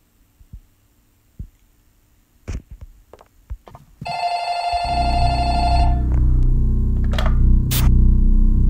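A telephone rings in the Roblox horror game The Light Bulb, a loud electronic bell tone held for a couple of seconds. Scattered clicks and thuds come before it, and a low hum continues after.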